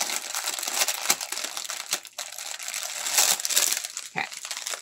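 Paper and cardboard packaging is unwrapped and crumpled close by, giving irregular crinkling and rustling bursts with a few sharper crackles and no speech.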